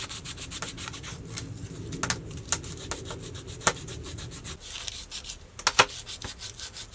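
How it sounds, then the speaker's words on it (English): Sandpaper rubs back and forth over a handmade wooden spoon in steady, soft scratchy strokes, close and fairly quiet, with a few sharper scrapes and taps mixed in. "I've got my spoon and I'm just going to be sanding it down"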